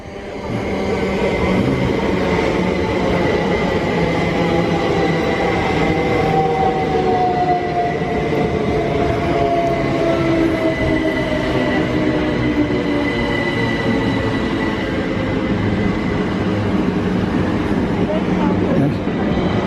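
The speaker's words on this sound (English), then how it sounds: "there's another one coming, another train" A train rumbles steadily through Ealing Broadway station, with a long wheel squeal sliding across the noise and faint voices underneath.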